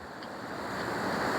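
A river runs over a rocky bed through green countryside, making a steady, close rushing wash with a breezy hiss. It grows slightly louder toward the end, and there are no voices.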